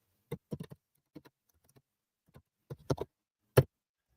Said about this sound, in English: Let me type this in real quick.